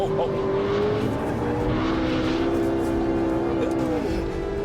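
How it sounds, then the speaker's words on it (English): Caterham Roadsport 175 SV sports car cornering at about 100 mph, a loud sustained engine note that rises and dips with throttle, with someone talking over it. "We're now cornering at about 100 miles an hour."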